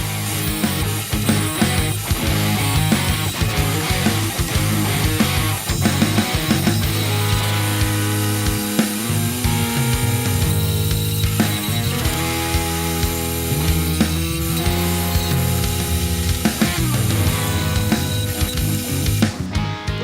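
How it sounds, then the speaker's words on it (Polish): A larger bit drilling a hole through a guitar body under construction, with a loud, steady whine of the drill motor and rattling, grinding cutting that wavers in pitch and cuts off at the end. "Zrobię po prostu dziurę na wylot"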